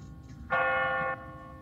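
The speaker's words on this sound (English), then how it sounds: "What kind of church bell goes off at 20 past the hour?" A church bell set on an automatic timer strikes once, a single loud clear ring that holds for about half a second over a quiet low background hum.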